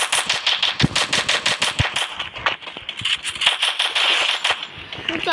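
Rapid bursts of MP40 submachine gun fire ring out in a video game, loud and close, with rattling volleys broken by brief pauses.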